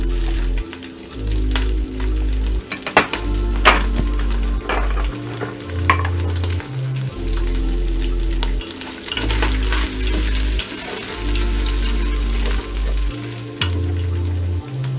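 Chopped onion sizzles in hot fat in a pot for a Cuban-Mexican split pea stew, a loud, continuous crackling fry with sharp spatters and stirring scrapes throughout.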